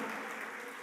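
Applause from a church congregation during a service, a steady dense wash of clapping that holds at an even level throughout the short moment with no break.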